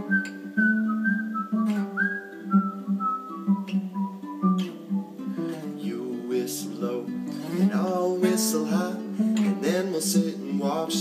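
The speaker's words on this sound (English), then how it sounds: "You like to whistle. I like to whistle. So why don't we all just whistle along?" Whistling carries a bright, sustained melody over a backing song, with notes gliding and overlapping in a close, loud performance and vocal sounds mixed in.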